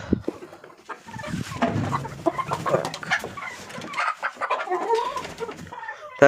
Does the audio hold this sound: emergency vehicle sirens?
no